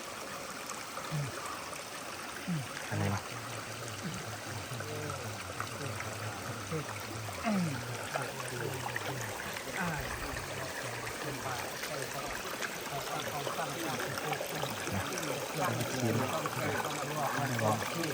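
A small stream flows beside a cattle pen in a rural village, giving a steady, continuous trickle and gurgle of running water throughout, with someone talking briefly over it.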